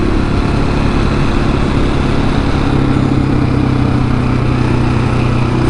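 A KTM 701 sportbike-style supermoto motorcycle engine drones steadily at close range with even throttle on a flat, curvy country road, a continuous loud low rumble with no talking.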